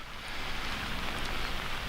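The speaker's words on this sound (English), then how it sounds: "It's raining right now." Rain falls steadily on a plastic-covered greenhouse, giving an even, continuous hiss and patter with no talk.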